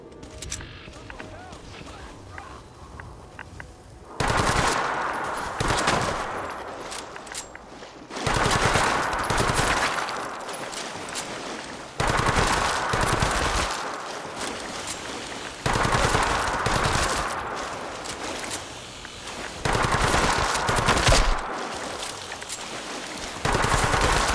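Rapid automatic weapon fire in Fallout 4 comes in five loud sustained bursts separated by short pauses, with quieter game ambience in between.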